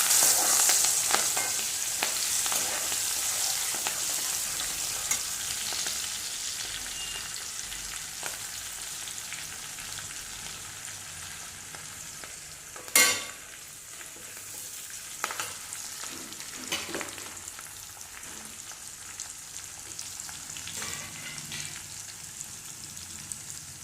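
Chopped ginger, green chilli and curry leaves fry in a pan over a low flame for amla pickle, giving a steady sizzle with scattered crackles and one sharp utensil clink midway.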